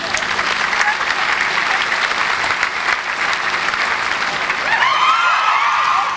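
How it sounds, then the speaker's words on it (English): Audience applause at a small live talk-show gathering, steady dense clapping that holds throughout at close range, with a few whoops and voices rising near the end. "Let me give you a round of applause."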